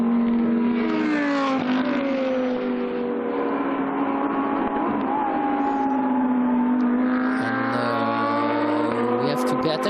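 GT2 race cars on the Dijon circuit give off a continuous high engine drone with shifting pitch as they accelerate, while a commentator speaks over it.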